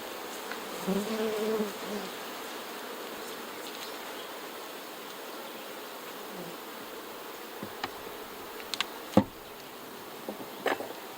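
Honeybees buzzing around an opened hive during a honey harvest, a steady close swarm hum with occasional sharper taps and knocks.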